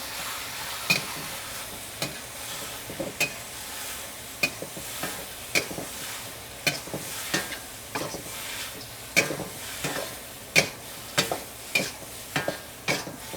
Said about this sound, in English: Just stir fry the noodles, combine them in that sauce.